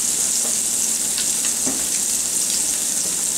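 Shrimp frying in a pan while Old Bay seasoning is mixed in, giving a steady bright sizzle with a few soft stirring scrapes underneath, close and continuous.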